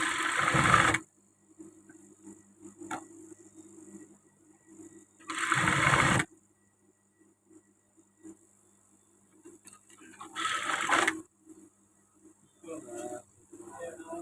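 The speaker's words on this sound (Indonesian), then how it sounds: "Kita jahit dulu bagiannya" Sewing machine running in three or four loud bursts of a few seconds each, stitching a section of a women's service uniform, with quiet ticking and handling pauses between the runs.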